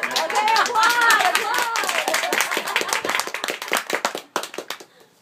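An audience applauding at a proposal, a burst of many hands clapping close and loud that thins into scattered claps and fades out, with voices mixed in at the start.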